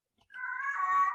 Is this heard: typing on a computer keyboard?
no